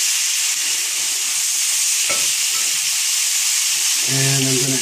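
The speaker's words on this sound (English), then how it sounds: "As it's frying up, so it has a little bit more" Salsa frying in a pan in a tiny home kitchen while burrito wraps are made, giving a steady, close, loud sizzling hiss throughout, with a brief clatter partway and a low hum near the end.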